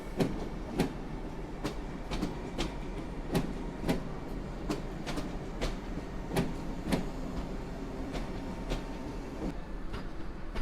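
An ED78 Polregio electric multiple unit runs from Poznań to Warszawa Główna through snowy Warszawa Zachodnia station, with a steady rolling rumble and regular clickety-clack wheel beats passing over rail joints.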